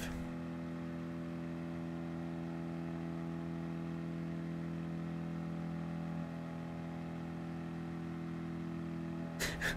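A steady car engine drone at about 65 mph on a race circuit holds a constant pitch throughout, loud and close, with a brief burst of noise right at the end.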